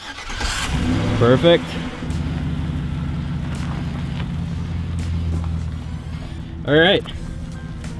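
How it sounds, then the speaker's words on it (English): A truck engine starts and runs steadily, a low rumble throughout with brief louder surges as it rolls over a rubber boot, while people talk nearby. "Let's start this truck up."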